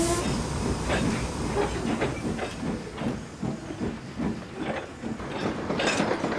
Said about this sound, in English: So Murdoch attached Henry's tankers to his train and was on his way.